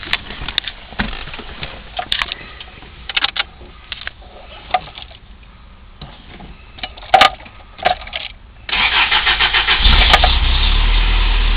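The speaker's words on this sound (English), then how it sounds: "I'm going to start it and disconnect it" A car engine with its fuel pressure regulator disconnected is handled with clicks and knocks, then cranks and catches near the end, settling into a loud, steady cold idle.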